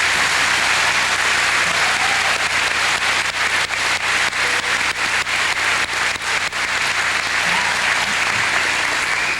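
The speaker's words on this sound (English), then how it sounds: "Please give these scholarship recipients your applause." Sustained, dense applause from a graduation audience honoring scholarship recipients at a 2004 ceremony, steady and loud throughout with no pause.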